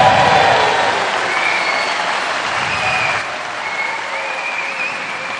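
A large arena crowd at a senior snooker championship final in Hull applauds steadily, a dense clapping wash that eases slightly partway through, without clear voices.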